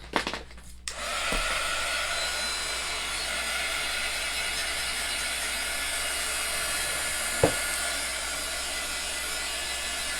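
A hair dryer blows on freshly applied Chalk Couture paste on a star cutout craft project, a loud, steady, close whoosh that starts after a couple of soft knocks and runs unbroken to the end, with one brief tap partway through.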